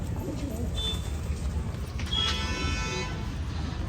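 Pigeons coo softly and repeatedly close by, set against a constant low rumble of outdoor background noise with faint distant traffic.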